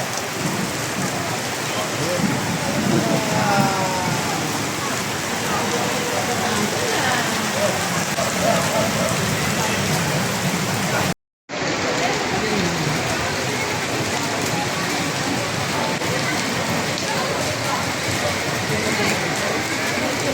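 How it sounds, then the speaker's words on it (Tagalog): Heavy rain pours down steadily in a dense, loud roar, broken by a brief moment of silence partway through. "At umuulan na. Nabutan na kami ng ulan."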